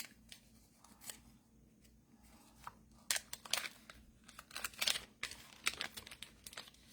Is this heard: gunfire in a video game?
no